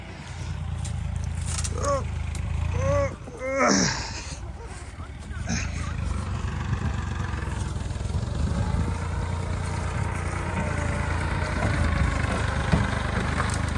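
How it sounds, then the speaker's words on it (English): A tractor engine rumbles steadily in the background on an overgrown farm in Portugal, a low continuous drone with some brief voices and movement noise near the start. "Quick, the tractor's down there, look."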